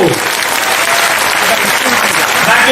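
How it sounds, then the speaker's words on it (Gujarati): A large audience at a Buddhist initiation festival gives loud, continuous applause as Buddhist monks are welcomed onto the stage, thick rapid clapping that stays strong from start to finish. "તાળીઓના ગડગડાટથી આપણે એમને વધાવશું."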